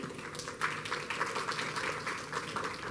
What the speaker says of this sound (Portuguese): salva de palmas, por favor